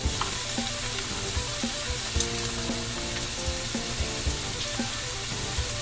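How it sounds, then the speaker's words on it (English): About four cloves of minced garlic sizzle steadily in a hot pan, a dense, close frying crackle with occasional soft clicks of a utensil, no voices. "We'll pop our garlic in there. It's about 4 cloves of minced garlic."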